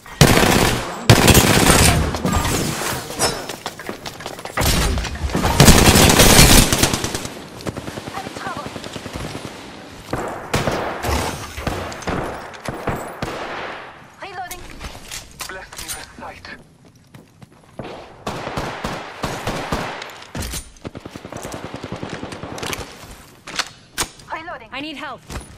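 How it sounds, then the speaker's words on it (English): Gunfire in Apex Legends comes in rapid automatic bursts and single cracking shots, loud and close, broken by short pauses, with a player's voice and game callouts mixed in between volleys. "I'm taking fire."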